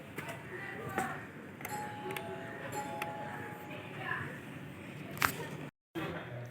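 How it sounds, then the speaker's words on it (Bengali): A house doorbell rings with a sustained electronic tone for just over a second, heard indoors at moderate level amid quiet room noise and a few small clicks. "কলিং বেলটা বাজাই"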